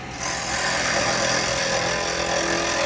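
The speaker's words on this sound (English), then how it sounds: "now I'm going to put a tenon on here" A wood lathe spins a small laburnum lidded box while a tool cuts a tenon, giving a steady, close, continuous whirring hiss with a faint rough scraping edge.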